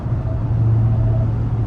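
Dodge Charger Hellcat cruising on a snowy road, its engine holding a steady low drone with a faint higher whine running through it, constant and close.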